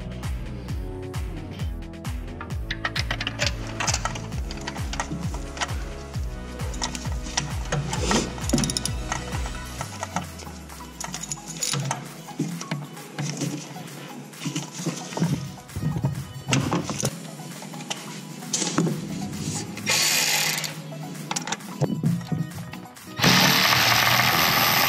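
Ratchet wrench clicking as spark plugs are loosened and removed from a Porsche 987 Boxster/Cayman engine, with rapid repeated pawl ticks in bursts, close up, alongside metallic clanks and handling noises.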